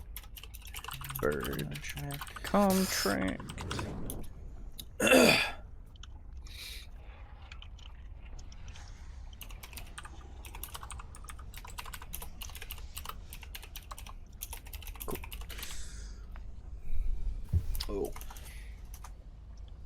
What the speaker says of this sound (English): I'll go ahead and type it out.